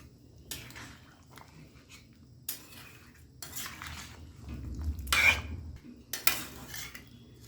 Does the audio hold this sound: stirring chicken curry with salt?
yes